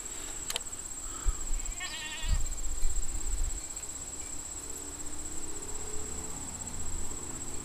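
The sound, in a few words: sheep bleating on a farm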